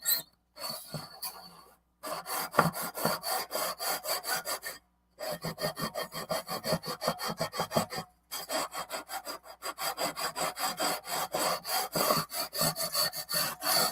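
A 320 grit StewMac fret level files guitar frets with rapid back-and-forth rasping strokes. The strokes come in close, rhythmic runs, broken by a few short pauses.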